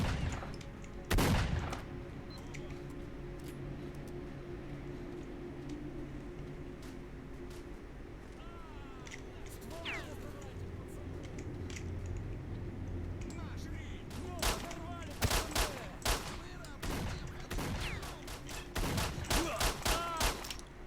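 Shotgun blasts and scattered gunfire in S.T.A.L.K.E.R.: Shadow of Chernobyl, sharp bursts in irregular clusters, loudest near the start and over the last few seconds, above a steady game background.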